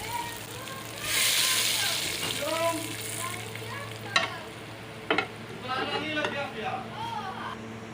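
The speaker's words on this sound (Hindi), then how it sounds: "तड़का तैयार हो गया, ये बता रही हूँ।" Hot oil sizzles and crackles throughout as a tadka for whole black masoor dal finishes, while someone talks over it, with a couple of sharp clinks from a utensil striking the pan.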